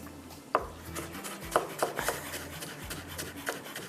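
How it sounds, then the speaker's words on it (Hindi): Fresh ginger being finely chopped with a knife on a board in a home kitchen, a few sharp irregular knife taps with soft rubbing scrapes between them, close and fairly quiet. "थोड़ी सी अदरक भी चॉप करके डाल देते हैं"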